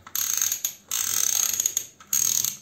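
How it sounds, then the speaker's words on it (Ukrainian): A toy excavator bucket from a construction play set with sound effects ratchets in three sustained rattling bursts, close and loud, separated by brief pauses. "Ковш опускається і піднімається, тріскотить, повертається, опускається"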